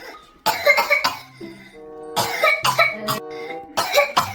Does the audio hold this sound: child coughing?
yes